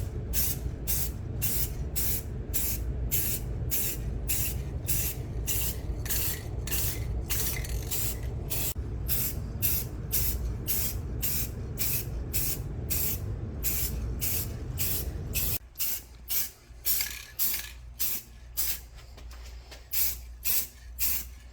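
Spray paint hisses onto car wheels for a Mitsubishi Eclipse time-attack build in steady, rapid bursts, close and loud, continuing without a break before shifting to shorter, choppier sprays near the end.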